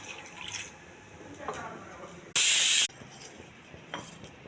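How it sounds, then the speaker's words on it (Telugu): A pressure cooker holding beans lets out one short, loud hiss of escaping steam lasting about half a second, set against quieter kitchen background. "ఈ బీన్స్ కుక్కర్లో వేసి ఒక విజిల్ రానివ్వాలండి"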